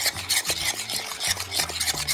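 Cheese mixture being stirred in a pan for homemade triangle cheese, a steady scraping and rubbing of the spoon against the pan in repeated strokes, close and fairly loud, with no talking.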